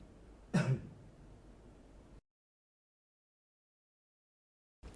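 A patient gives a single short cough or throat clearing during a chest examination for bronchiectasis, close and fairly loud, followed by quiet room tone and then silence.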